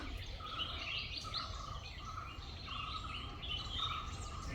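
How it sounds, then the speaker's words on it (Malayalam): Faint birdsong drifts from a distance along a tree-lined road in Nilambur: repeated chirps and short whistled calls over a soft, steady background hum, with no talking. "നല്ല കിളികളെ സൗണ്ടൊക്കെ ഉണ്ട് ഒരുപാട് മരങ്ങളൊക്കെ ഉള്ള വഴികളാണ്"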